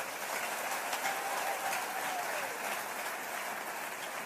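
Church congregation clapping together in a sustained, dense wash of applause, steady and fairly loud throughout with no clear speech over it.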